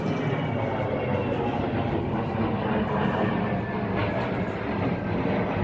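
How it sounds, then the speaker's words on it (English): Military airplane passing overhead near shallow mangrove waters in Guangdong, China, a steady broad engine roar holding at a constant loudness throughout without pause. "Oh, that's a military airplane."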